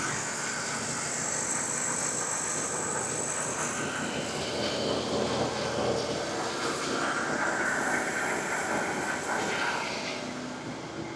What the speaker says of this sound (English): Again, it's a high idle, so bear with us.